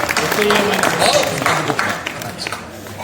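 An audience at a swadeshi fair claps for a poet's performance, a short burst of applause under speech and crowd noise that fades by the end.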